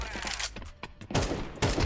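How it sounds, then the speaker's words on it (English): Gunfire in the video game Counter-Strike 2, a short run of rapid sharp shots followed by heavier close bursts, all within under two seconds. "How dare you shoot me, man?"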